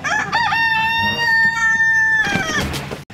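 A rooster crowing during a fight with a duck, one long loud close cock-a-doodle-doo that holds steady and then trails off into rough squawking, with no talk.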